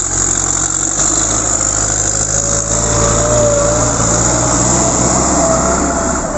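A tractor engine runs steadily and loudly nearby, a constant droning rumble with no break.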